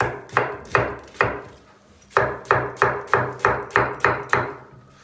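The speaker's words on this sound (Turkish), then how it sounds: "Soğanları çok iri doğramayacağım." Onions being chopped with a knife on a cutting board for a chicken liver dish, a fast series of crisp, evenly spaced blade strikes with a short pause partway through, close and clear with no talk.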